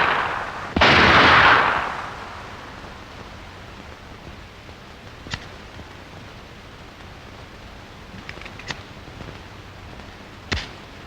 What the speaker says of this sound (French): Le tir rapide au pistolet est efficace de 25 à 10 mètres.